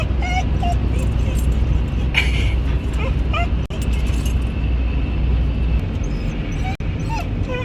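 A dog whines and yips repeatedly inside a moving car, high thin whimpers over a steady low road rumble, with some talk mixed in.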